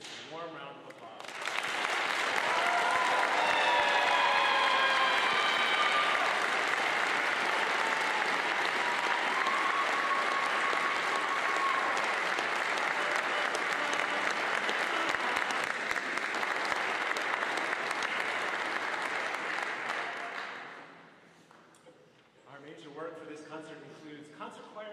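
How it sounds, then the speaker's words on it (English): A concert audience gives a long, warm round of applause for senior choir singers at a choral concert, dense, loud clapping sustained for about twenty seconds before fading, followed by a brief quiet stretch and faint stirring. "Please give the seniors a warm round of applause"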